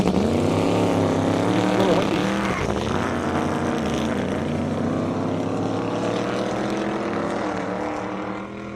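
Camaro race car blasting down an airstrip at over 200 mph, a loud sustained engine roar with a pitch sweep as it passes close, fading slightly at the end.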